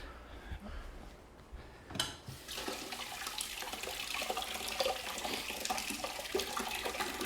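Water gushes from a tap into a stainless steel farm glass, starting abruptly after a quiet moment and then running steadily and fairly close for several seconds.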